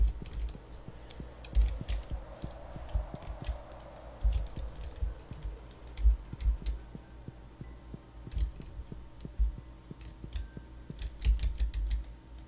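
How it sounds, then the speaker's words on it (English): Mouse and keyboard clicks from someone playing Stardew Valley on a computer: a steady scatter of sharp, close taps and clicks with occasional louder thumps over a low background hum, no talking. "I don't know why I keep right clicking."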